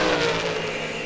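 A dragster engine roaring at the start of a drag race, a brief, loud, broadband blast that fades slightly over about a second, heard alone without talk.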